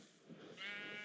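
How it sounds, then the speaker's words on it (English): A sheep in the Minecraft Stoneblock modpack gives a single short bleat, fairly quiet and close. "I found here we had a couple sheep, so I grabbed them and threw them into a mob imprisonment tool"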